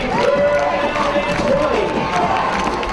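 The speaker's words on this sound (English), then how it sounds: "Crowd on their feet." A high school football crowd stands and cheers loudly during a tense late-game moment, a dense continuous roar of voices, shouts and some clapping with a commentator talking over it.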